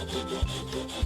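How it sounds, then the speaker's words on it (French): Small handheld pocket chainsaw cutting through wood, a steady rasping saw noise with regular strokes and a low thump roughly every half second, close and moderately loud, no voices. "Une tronçonneuse de poche?"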